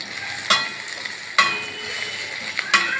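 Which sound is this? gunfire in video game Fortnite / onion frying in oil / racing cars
onion frying in oil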